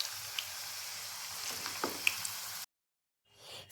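Suji rasbora dumplings fry in oil with a steady, soft hiss of sizzling, broken by occasional small pops and crackles. The sound cuts off abruptly, and after a short silence faint frying returns.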